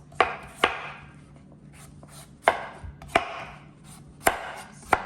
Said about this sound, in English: You could also blend it with the skin, but I prefer to cut the skin off.